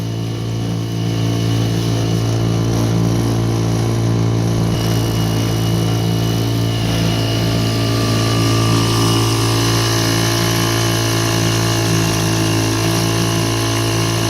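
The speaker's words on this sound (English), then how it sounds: "Have a little 2-horse outboard on here, so it doesn't move me too fast" A small 2-horsepower outboard motor drives a boat across a shallow beaver pond, a steady, loud droning hum with a constant pitch that shifts slightly partway through, close by and alone.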